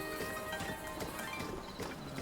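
Horse hooves clip-clopping through a town in the video game Tears of the Kingdom, a steady walking beat over constant game music and ambience, with no talk.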